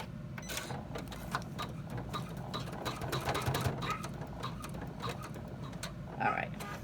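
An embroidery machine stitches an in-the-hoop bag with a fast, steady mechanical chatter of needle strokes, close and continuous, with a faint voice briefly in the background.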